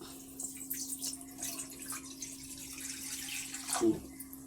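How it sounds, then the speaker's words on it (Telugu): Water pours and splashes close by at a steady, moderate level, with a brief louder gush near the end. "ఇదిగో వాటర్ పోస్తున్నా"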